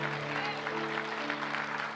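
Applause from a church congregation in praise of the Lord, a soft steady patter of clapping held low beneath sustained tonal hum from music or voices, continuing evenly for two seconds.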